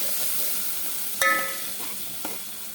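Coriander is stirred into ginger-garlic paste and onions frying in a pan, giving a steady hissing sizzle with a sharp clank of the spoon against the pan and a softer knock later.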